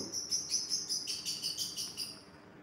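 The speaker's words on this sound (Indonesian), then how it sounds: "maaf om burungnya berisik om" Lovebirds in a colony breeding setup chirp noisily in rapid, continuous high-pitched bursts, close by, with no voices.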